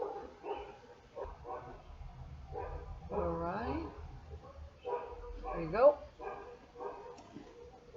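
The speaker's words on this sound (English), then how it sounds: "This dog is barking." A dog barks and whimpers off to the side during an online English class, several short yips scattered under and between a nearby voice talking.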